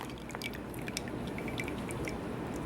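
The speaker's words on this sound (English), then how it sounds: "You can just hear the juice dripping out." Blackberry juice drips from crushed pulp being pressed for syrup, scattered small wet ticks and squishy sounds repeating irregularly, close and fairly soft over a steady low background, no talk.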